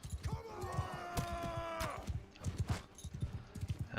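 A horse gallops in the medieval combat game Bannerlord with rhythmic, close hoofbeats throughout, while a voice talks over the first half.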